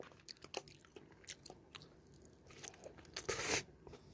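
Crunchy bites and chewing of an Emart kimchi pork cutlet topped with kimchi and cheese, close and intimate with repeated crisp crunches and a louder burst of crunching near the end, no talking.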